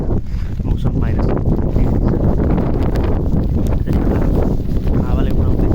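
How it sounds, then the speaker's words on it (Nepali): Strong snowstorm wind in freezing sub-zero weather blusters hard against the microphone in loud, continuous rumbling gusts, while a person speaks over it. "हावाले उडाउँदैछ, म ठ्याक्क पनि नजाने गरी हिँड्दैछु।"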